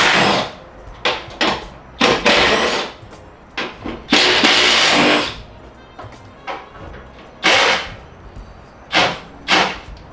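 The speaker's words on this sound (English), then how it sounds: "Electric ratchet." An electric ratchet works in the engine bay of a Mazda Miata being prepped for an LS swap, giving close, loud, irregular bursts of buzzing whir, some brief and some lasting a second or more, with quiet gaps between them.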